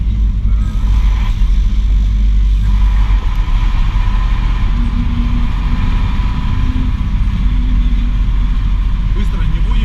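A car cruises along a newly built central street, its low engine hum and road noise steady and close throughout, with people talking over it.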